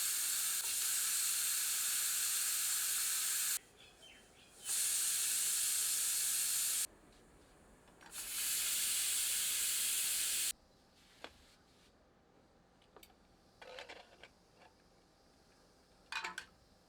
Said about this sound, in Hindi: अब मध्यम आंच पर प्रेशर कुकर में 10 से 12 सीटियां देकर इसे पका लेते हैं।